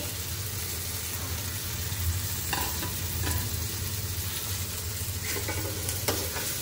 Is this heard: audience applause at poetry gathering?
no